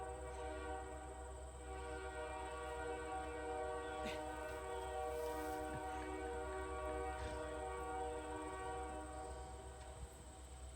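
A train rolls past near railroad tracks outdoors, its sustained horn blaring steadily with a dense low rumble of railcars underneath, loud and continuous throughout.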